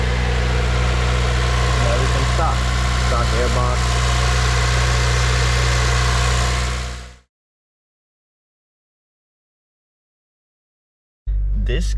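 Honda Civic Si FA5 with stock airbox idling close by with a steady low rumble and some vibration, then abruptly cut to silence before a brief return at the end.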